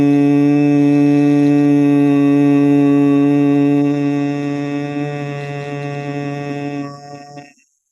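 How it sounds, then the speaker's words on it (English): A steady, sustained nasal hum on the out-breath during a breathing exercise, loud and close with a strong drone, holding for about seven seconds before fading and stopping. "So nose in is silent, but the nose out is a hum."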